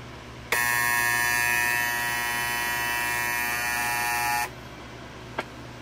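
The alarm buzzer of a vintage Truetone MIC2230A-27 clock radio rings as a steady, harsh electric buzz for about four seconds, then stops, followed by a faint click.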